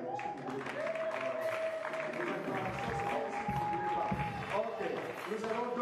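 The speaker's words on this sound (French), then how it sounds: "Acclamez alors si vous voulez." An audience at a church gathering with a pastor applauds and cheers steadily throughout, a dense wash of clapping and raised voices with some singing-like tones over it.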